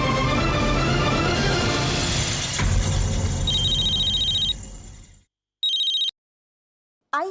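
A telephone rings in short electronic bursts over background noise, then rings again after the noise drops away to near silence.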